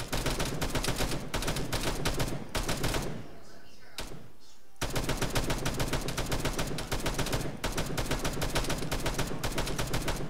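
Rapid, loud bursts of gunfire in Arma 3 crackle almost continuously, broken by a short lull with a single sharp shot before the firing resumes.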